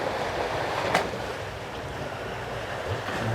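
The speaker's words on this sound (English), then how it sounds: "there's the leat along there with the water flowing along it" Water runs along the leat beside the canal at Crofton Pumping Station, a steady broad wash of flowing water with some outdoor rumble and no voices.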